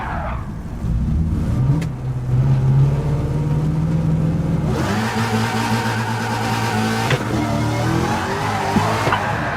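Mazda Miata race car in Gran Turismo 7 driving continuously, its engine revving loud and steady, with a shift partway through and tire squeal as it corners, no talk.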